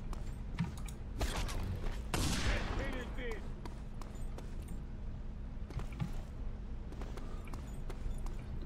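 Gunfire in the video game Just Cause 2: scattered sharp shots and a short burst crack over continuous game background noise, while someone talks.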